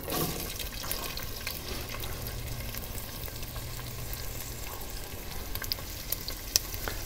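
Diced onions fry in about two tablespoons of oil for a BBQ chili con carne, a steady close sizzle with occasional stirring scrapes and small pops, no voices over it.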